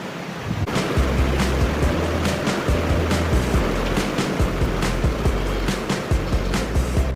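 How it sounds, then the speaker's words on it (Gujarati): Rain falling outdoors makes a steady, loud wash of hiss with a low rumble underneath, continuous and unbroken, with no talking. "હવે વરસાદ આવ્યો."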